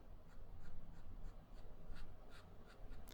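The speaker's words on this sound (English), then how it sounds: "Reverse seems to be a little bit scratchy," Faint, steady scratching of a Pilot Volex fountain pen's nib used upside down on paper, a dry, slightly rough scratch with small rhythmic strokes.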